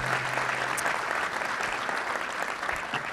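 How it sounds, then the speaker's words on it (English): An audience applauds at a town inauguration ceremony in Oyster Bay, a dense, even wash of many hands clapping that holds steady for a few seconds and then tapers slightly. "Give Joe Cairo another round of applause"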